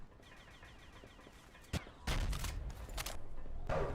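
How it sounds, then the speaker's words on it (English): Gunshots in a competitive video game match: a few sharp, isolated reports over quiet background, then a denser burst of loud shots a little over halfway through, with more shots following. "Shots fired, no damage as far as I can tell"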